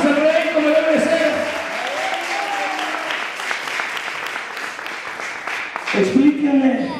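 A church congregation gives steady applause for the King during a sermon, continuous clapping with a preacher's voice speaking over it at first and again near the end.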